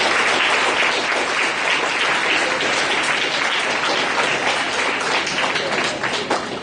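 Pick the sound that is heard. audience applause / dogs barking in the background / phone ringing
audience applause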